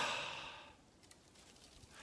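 One slow, deep exhaled breath close to the microphone, a soft airy rush that fades over about a second into quiet room tone.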